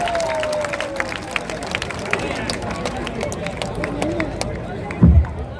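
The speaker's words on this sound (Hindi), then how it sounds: "इनके लिए ताली बजाइए जोर से" An audience at a public speaking event claps for a speaker coming to the dais: scattered, uneven clapping over a murmuring crowd with voices underneath, ending with a dull thump.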